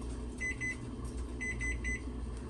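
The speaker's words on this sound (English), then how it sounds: "so that's the alarm" A kitchen timer alarm sounds during soup cooking, two short beeps and then three more in a rhythmic pattern, clear and moderate over a faint background hum.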